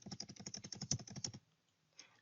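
Rapid, steady keystrokes on a computer keyboard while an email address is typed, a close, even burst of clicks lasting over a second, then near silence with one faint tap.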